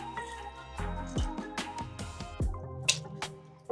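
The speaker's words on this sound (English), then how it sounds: "Let's go ahead and squeeze in a lime. Squeeze them out." Lime being squeezed by hand over a bowl of water with vinegar in a kitchen, giving a few soft wet squishes and dripping splashes, close and quiet, with no talking.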